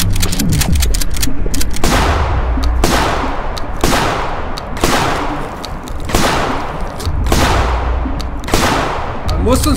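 Gunfire in the horror video game Ratman: roughly seven heavy, booming shots spaced about a second apart follow a quick cluster at the start, each echoing and decaying, loud and close.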